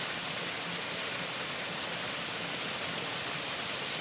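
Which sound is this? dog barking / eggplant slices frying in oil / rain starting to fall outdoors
rain starting to fall outdoors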